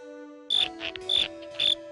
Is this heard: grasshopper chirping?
yes